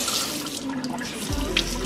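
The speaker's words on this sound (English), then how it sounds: "now the water flowing" Water runs from a kitchen sink tap onto thawing steak in a farmhouse kitchen, a steady close splashing stream that swells near the end.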